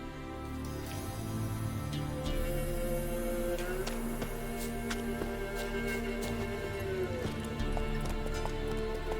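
Steady clip-clop of the horse Roach galloping in The Witcher 3, rhythmic hoofbeats continuing throughout under a background of game music and ambience.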